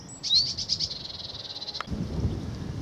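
A blue tit gives its warning call near a garden bird box in early April on a walk around Islip, a quick run of high, sharp repeated notes lasting about a second and a half, then quiet outdoor rumble.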